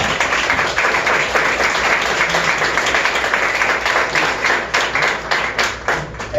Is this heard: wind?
no